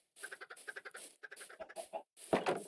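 Chickens in the game Minecraft clucking in short quick rhythmic bursts, a few birds near and moderately loud, with brief pauses between the runs of clucks.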